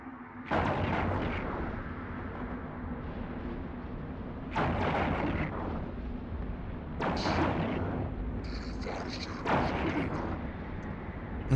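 Ship weapons firing in the space game EVE Online boom in four heavy, spaced blasts with rumbling tails over a steady low background hum, and no voice.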